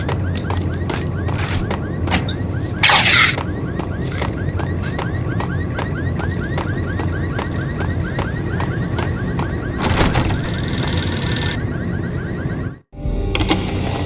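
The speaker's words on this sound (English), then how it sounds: "the payphone started to ring" A payphone rings in the Max Payne video game, a steady repeating electronic trill over a dense game soundscape of music and ambience, with a brief burst of noise partway through.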